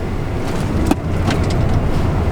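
Tesla Model X Performance pulling away hard in ludicrous mode from about 35 mph at half throttle, a steady broadband whoosh of road and motor noise at close range with no speech.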